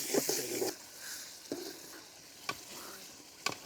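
Spice paste for rohu fish kalia frying and being stirred in a pan, a soft steady sizzle broken by a few sharp scraping strokes of the spoon, close by with no talk.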